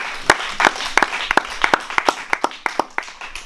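Congregation clapping in a church service, a dozen or so sharp claps in loose rhythm, fairly close and moderately loud, with faint murmuring voices underneath.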